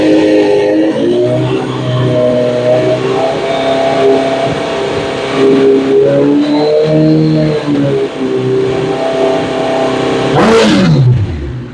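A sport bike engine held at about 4,000 RPM in launch mode drones loud and steady, its pitch wavering slightly, then drops away sharply near the end as the throttle closes.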